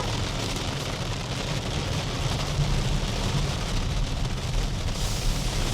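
Heavy rain pounds an XPENG G6 electric SUV driving up a mountain road in fog, a dense, loud, steady hiss and drumming on the body mixed with low road rumble, continuous and with no talking.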